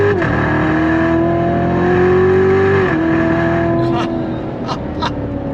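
A Chevrolet Corvette C7 Z06 with an 8-speed torque-converter automatic roars loudly and up close under throttle, its engine note stepping down as paddle downshifts come through, followed by a few sharp pops; someone talks over it.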